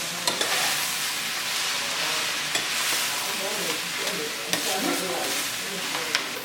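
Cabbage with shrimp and sausage fries in a pan while being stirred, a continuous close sizzle broken by sharp scrapes and clicks of the spoon.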